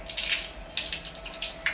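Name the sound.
water running from a tap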